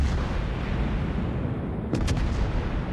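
Naval gunfire from warships in World of Warships: a steady, heavy rumbling roar of battle noise with a brief burst of shots near the middle.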